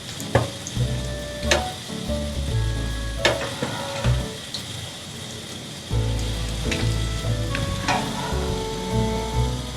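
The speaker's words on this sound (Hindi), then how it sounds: "बाकी जो रह गए हैं कबाब उनको भी फ्राई करते हैं" Moong dal shami kababs fry in a hot pan with a steady, close sizzle. Occasional clatter of the spatula against the pan punctuates it, with a brief dip in the sizzle midway.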